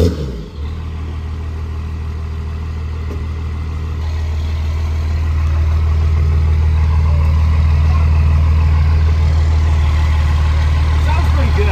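A first-generation 12-valve Cummins diesel idles through its exhaust with a deep, steady rumble that swells slightly after a brief dip at the start. It is close and loud, with people talking over it.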